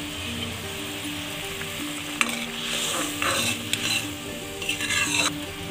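Bottle gourd kofta gravy bubbles in a pan while garam masala is stirred in, giving a continuous simmer with clinks and scrapes of a spoon against the metal.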